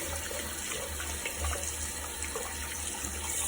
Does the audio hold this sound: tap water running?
yes